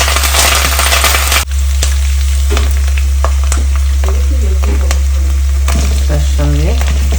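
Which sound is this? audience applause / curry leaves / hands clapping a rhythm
curry leaves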